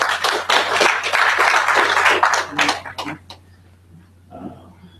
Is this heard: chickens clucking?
no